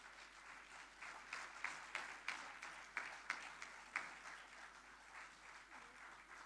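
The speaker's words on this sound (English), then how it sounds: "Let's have a huge round of applause." A small audience at India Maritime Week 2025 claps steadily for several seconds, the applause faint and somewhat distant, with a few sharper individual claps standing out.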